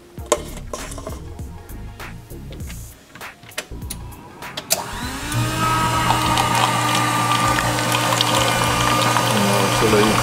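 A drinks vending machine in a school's staff area dispensing hot water, starting with clicks and knocks, then settling into a steady mechanical pump hum with pouring liquid that continues to the end.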